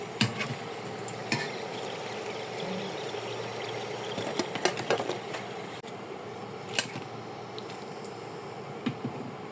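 Egg and potato chops shallow-frying in a pan of oil, a low continuous sizzle with scattered crackles and pops, quiet and steady without speech.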